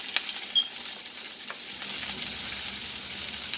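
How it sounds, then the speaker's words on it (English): Mixed peppers and onions sizzling in a hot pan, a steady close hiss of frying with occasional small pops and the stir of ingredients, no talking. "You want to hear that sizzle."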